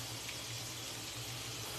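Tap water running steadily into a container in a home kitchen while cooking fried pork chops, a continuous faint rushing stream with no talk.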